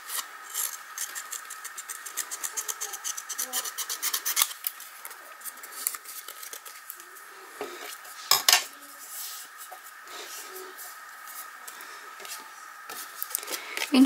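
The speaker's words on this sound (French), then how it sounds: "Et je vais donc couper l'excédent de papier." Scissors snipping away excess paper from a handmade card, a steady run of short crisp cuts and rustling paper close by, with a sharper snap near the middle and no talking.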